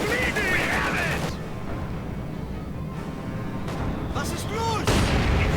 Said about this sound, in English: Grenadiers getting hit by their own mortar again.